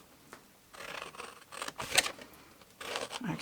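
Scissors snip through paper while shaping a gift box, a few short separate cuts with rustling handling between them, close by and fairly quiet.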